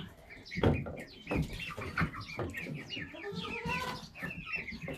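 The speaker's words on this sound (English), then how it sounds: "these still are sounding like chicks" Young chickens cheep and peep up close, a busy overlapping chorus of high chirps with a few lower clucks and rustling thumps.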